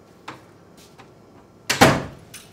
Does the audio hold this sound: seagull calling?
no